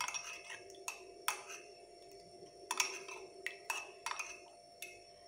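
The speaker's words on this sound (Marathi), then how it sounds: "आता हे हलवून घेऊया। चहा आणि दूध मिक्स करूया व्यवस्थित।" A spoon stirs jaggery tea and milk in a metal pot, making quiet, irregular clinks and pings against the rim and sides over a faint steady hum, close by and without talk.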